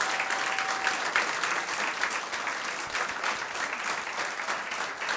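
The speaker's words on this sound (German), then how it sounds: "Mal Applaus für Nega Amiri" An audience at a late-night comedy show in a laundromat claps steadily, a dense sustained round of applause that stays loud and even from start to finish.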